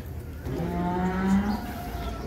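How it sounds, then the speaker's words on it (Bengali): At the Aricha cattle market, a large cow lets out a single deep, drawn-out moo, close and clear over a faint background hum. "বিশাল বিশাল গরু উঠছে আরিসা হাটে।"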